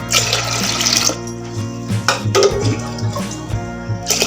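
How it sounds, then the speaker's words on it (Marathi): Water runs and splashes steadily into a pot of washed dal, close by, with a few clinks and knocks over the flow. "आता अंदाजाप्रमाणे त्याच्यात पाणी टाकायचं"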